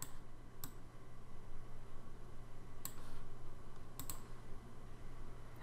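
A computer mouse clicking and dragging boxes in a Tinkercad lesson, with a few sharp, isolated clicks spread across a quiet room-tone background.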